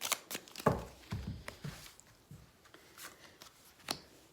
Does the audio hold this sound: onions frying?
no